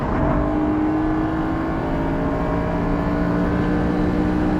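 A BMW E92 M3 drives a race track, its engine a steady, loud, close drone with a constant whirring tone and no talking.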